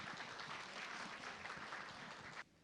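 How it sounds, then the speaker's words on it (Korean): Dense, steady applause from a large audience welcoming a keynote architect at a green-building festival ceremony in Seoul's COEX hall, sustained evenly before cutting off abruptly near the end. "뜨거운 박수로 또 환영해 주시기를 부탁드립니다"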